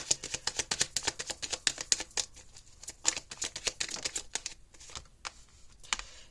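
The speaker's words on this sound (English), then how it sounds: "some people like to see the cards being shuffled" Rapid, crisp riffling of tarot cards being shuffled, a flurry of papery flicks and snaps in uneven bursts, close and clear with no talking.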